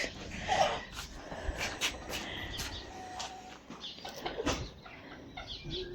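A Japanese bantam rooster clucks in short, scattered bursts near a farmyard. The sound is moderately close against a quiet outdoor background.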